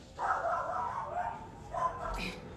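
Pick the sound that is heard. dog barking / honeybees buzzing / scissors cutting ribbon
dog barking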